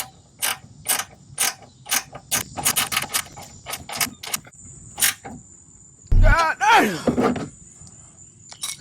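A ratchet tightens a ground wire screw at the factory horn mount of a Honda HR-V, giving a run of rapid, evenly spaced clicks that later switch to a chirping rhythmic ratcheting, close up with no talk.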